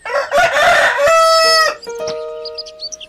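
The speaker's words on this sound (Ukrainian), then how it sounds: "Півник гордо виступає, на все горло він горлає." A rooster crows loudly and close, one long drawn-out call trailing into a few clucks at the end.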